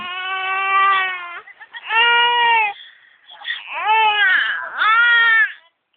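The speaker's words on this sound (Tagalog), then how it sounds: "Ay, umiiyak na." A baby cries loudly and close by in several long wailing bursts separated by short gasping pauses, with a whimpering break in the middle.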